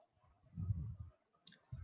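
A computer mouse gives a few quick, close clicks, crisp and isolated against a quiet room.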